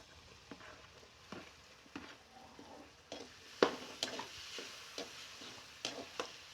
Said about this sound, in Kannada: ಎಲ್ಲಂತೂ ಫ್ರೈ ಆಗಿದೆ ಟೊಮೊಟೊ ಫ್ರೈ ಮಾಡಿ